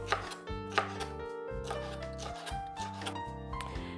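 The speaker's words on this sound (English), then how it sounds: "I'm just gonna cut thin the strips" Knife slicing endive into thin strips on a cutting board, with steady rhythmic chopping taps close by over soft background music, no talking.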